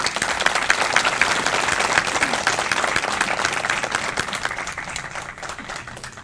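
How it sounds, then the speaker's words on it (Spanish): Warm applause from an audience at a book presentation, a steady dense wash of many hands clapping that gradually fades toward the end. "Les pido lo recibamos con un caluroso aplauso"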